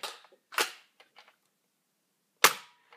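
A modded Nerf Zombie Strike Crossfire blaster fires, giving a few sharp close snaps and clacks spaced apart, with one loud crack near the end and quiet gaps between.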